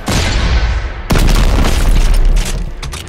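Custom weapons fire in the Dead Space 3 game as loud, heavy booming blasts, one thunderous roar cut off and followed by another sustained explosive burst with crackling debris.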